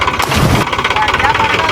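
A tractor engine starts with a loud burst, then settles into a steady, rhythmic chugging idle close by while people talk over it.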